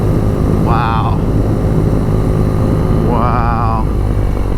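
A 2019 BMW R nineT motorcycle engine on the move, a steady loud drone with heavy wind roar, and two short rising whines drifting up and back down like revs changing.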